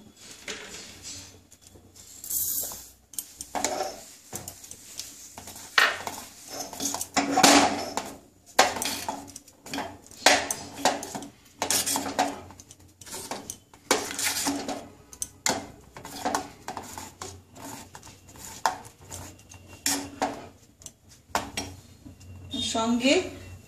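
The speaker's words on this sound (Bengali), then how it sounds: "এই যে ঘন ঘন হয়ে আসছে দেখুন, এই যে নাড়তে হবে কিন্তু সমানে" A spoon or ladle knocks and scrapes repeatedly against a pot while firni thickens, giving a busy, irregular clatter that runs the whole time, with a voice heard now and then among the strokes.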